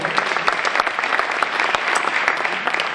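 A gala round table audience breaks into dense, steady applause of many hands, loud and close, continuing throughout without a break.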